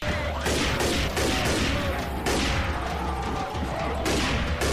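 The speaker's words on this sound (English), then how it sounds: "I'll snipe the horde that's coming over here." Dense gunfire at a zombie horde in Left 4 Dead 2 rattles in rapid overlapping bursts throughout, loud and close, with a faint voice underneath.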